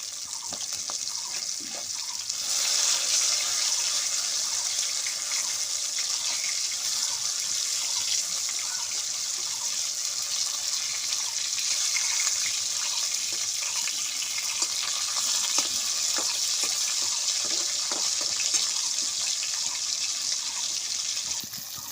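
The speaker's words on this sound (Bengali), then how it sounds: "মাছটা আমি খুব ভালো করে ভেজে নেব" Rohu fish frying in hot oil, a continuous bright sizzle and hiss that fills the whole stretch evenly, close and fairly loud, with occasional small pops and no voices.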